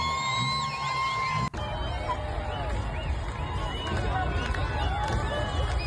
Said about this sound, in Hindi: भीड़ जमा हो गई और जमा भीड़ ने खुशियां मनाई